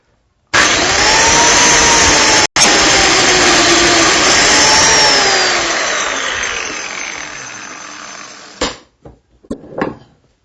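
Biscuit joiner cutting a slot into the end of a wooden workpiece: a loud, steady high-pitched motor whine runs for about eight seconds with a brief dip, then winds down and stops, followed by a few short knocks and clatters.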